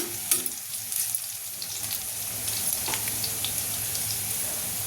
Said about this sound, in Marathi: आता याच्यामध्ये मी लसूण घालते हे बघा लसूण टाकून छान असा लालसर होईपर्यंत परतवून घ्यायचा आहे